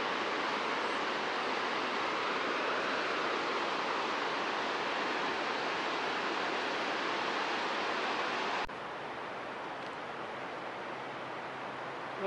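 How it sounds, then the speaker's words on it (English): Small waterfall pouring into a rocky canyon at Devils Washbowl, a steady broadband rush of falling water heard from across the canyon, continuous and fairly loud, dropping slightly in level near the end with no voices. "You see another small waterfall across there."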